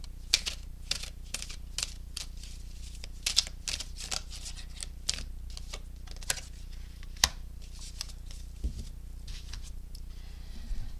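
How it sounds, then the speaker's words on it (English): Tarot cards are shuffled, rearranged and drawn for a yes-or-no reading, making crisp, irregular close-up snaps, flicks and taps on a surface, quick clusters with short pauses, and no one speaking. "Let's go ahead and draw one more card."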